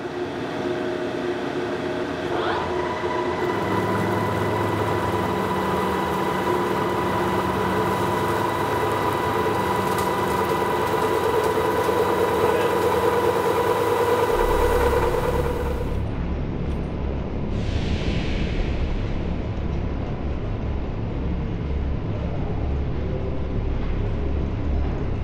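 A milling machine with a large cutter takes an inch-wide cut seven inches deep, giving a loud, steady, grinding mechanical roar with sustained tonal whine that shifts to a deeper rumble partway through.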